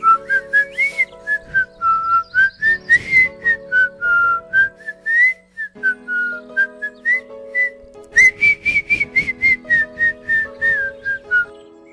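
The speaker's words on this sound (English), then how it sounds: "Look, I can blow air and whistle." A boy whistles with his mouth, producing a steady, clear, loud melody of rising and falling pitched notes for about twelve seconds, close to the microphone with a faint soft accompaniment beneath.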